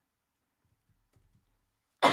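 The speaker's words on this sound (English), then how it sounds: "I always have to cough when I'm streaming" A single sharp cough bursts out close to the mic after near silence, loud and abrupt, during a live stream.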